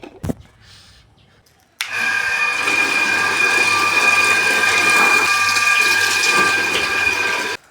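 Water pours steadily into a pesticide spray bottle, a loud continuous rushing hiss that starts abruptly after a brief knock and carries on for several seconds without talk.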